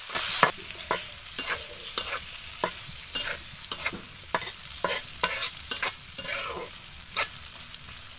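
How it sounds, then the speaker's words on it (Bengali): Onions and green chillies frying in fish oil with a bay leaf, a steady close sizzle broken by frequent sharp scraping strokes of a stirring spoon at an uneven rhythm, with no voices. "পেঁয়াজ কাঁচামরিচ গুলো একটু তেলে ভেজে নিব।"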